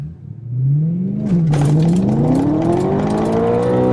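A BMW E92 M3 with Gintani tune and Mille Miglia exhaust roars as it accelerates hard from 0 to 100 km/h, pitch climbing steadily through the gears with a raspy, aggressive exhaust note close by.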